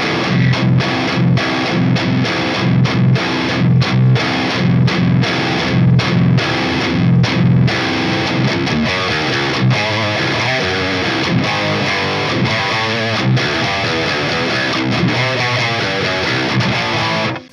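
An electric guitar played through a high-gain amp with modern metal distortion chugs in tight, palm-muted rhythmic bursts, then shifts to sustained, saturated riffing, loud and close throughout with no talking.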